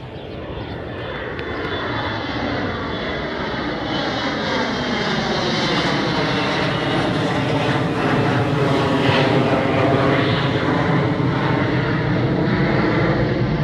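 An airplane passes low overhead near an airport, with a loud, steady roaring engine drone that swells slightly as it crosses, heard alone with no talk.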